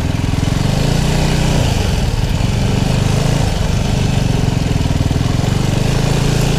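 A motorcycle engine runs loud and close with a continuous rough, pulsing drone and no talk over it.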